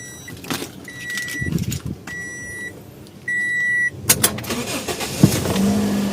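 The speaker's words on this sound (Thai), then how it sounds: "พาไปสตาร์ทเครื่องนะครับ" A Toyota Altis in a workshop starts up: several electronic chime beeps sound, then a short burst of cranking as the engine catches on the first try and settles into a steady idle.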